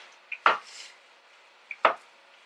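A knife chops through peeled plantain on a board in two sharp, close cuts about a second and a half apart, each with a light tap just before the main thud.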